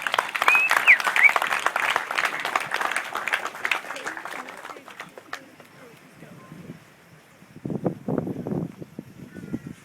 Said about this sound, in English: Round of applause for Heath.